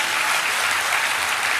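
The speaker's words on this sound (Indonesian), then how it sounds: "Tepuk tangan dong biar saya juga semangat." A church congregation claps together in steady, dense applause that fills the whole moment, loud and close, with no voices over it.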